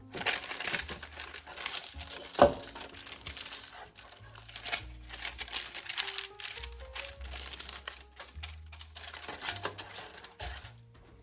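Parchment paper crinkled and handled while making fudge, close-up rustles and crackles in irregular bursts with soft taps and thumps between them.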